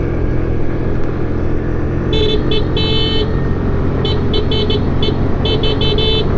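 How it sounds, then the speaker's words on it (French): A Suzuki Address 125 scooter's horn beeps in short, bright bursts, first a few quick toots and then a longer string of repeated honks, over the steady drone of the engine and wind while riding. "J'ai pas testé le klaxon encore,"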